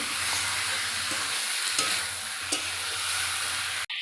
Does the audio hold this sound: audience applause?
no